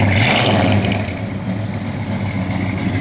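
A 1968 Plymouth GTX V8 engine runs close by, with a brief rev at the start before it settles into a steady, throaty idle.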